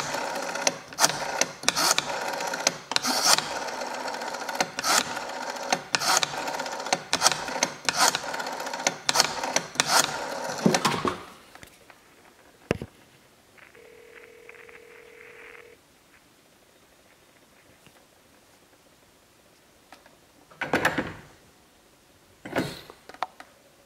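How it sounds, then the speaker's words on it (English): A Western Electric telephone is dialed: a run of evenly spaced mechanical clicks from the dial for about ten seconds, followed by a faint steady tone on the line and a few later clunks of handling. "I'll dial the time and temp number."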